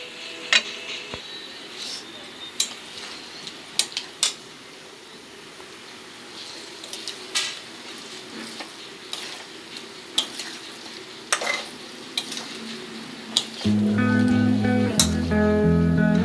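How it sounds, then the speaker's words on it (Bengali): Mutton, potatoes and banana flower are stirred and sautéed in a pan, with a steady sizzle and repeated sharp scrapes and knocks of a spoon against the pot, close and loud with no talk. "আবারও ভালোভাবে কষাবো।"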